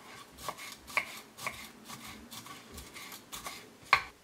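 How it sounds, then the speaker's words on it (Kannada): A knife chopping fresh coriander leaves on a board in soft, quiet, fairly regular cuts about twice a second, ending with a sharper clack. "ಇದನ್ನು ಸಣ್ಣದಾಗಿ ಕಟ್ ಮಾಡಿ ಇಟ್ಕೊಳ್ಳೋಣ"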